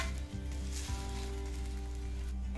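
Chapati sizzles steadily on a hot pan while an egg chapathi cooks: a continuous, close, fairly loud hiss with faint crackle and no talking.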